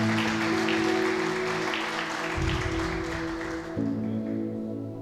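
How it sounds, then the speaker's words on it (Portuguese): A church congregation claps together during a celebration service, a steady wash of applause over sustained organ or keyboard chords, lasting a few seconds at moderate volume. "Vamos aplaudir o Senhor"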